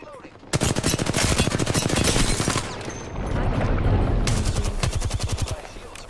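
Sustained rapid automatic gunfire in Apex Legends rattles loud and close for several seconds, briefly thinning before another dense burst, with no talking.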